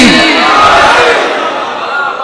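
A crowd at a majlis, a Shia religious mourning gathering, roars back in unison in response to the slogan Nara-e-Haidari, a loud, dense shout of many voices that swells at once and then slowly fades over about two seconds.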